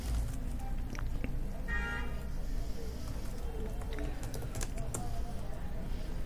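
The npm start command is typed on a computer keyboard as a quick run of clicky keystrokes under a voice talking, with a faint horn-like tone partway through.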